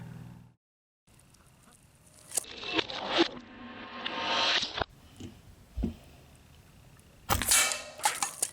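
A Crosman Magfire Extreme .22 air rifle fires pellets at a steel target, producing several sharp, separate cracks and smacks spaced a second or two apart against a quiet outdoor background.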